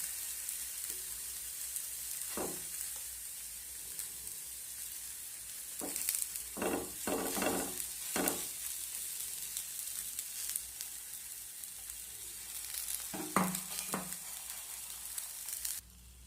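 Brinjal slices frying in a pan with an egg mixture spooned between them, a steady loud sizzle running throughout with occasional sharper crackles and spoon scrapes, no voices.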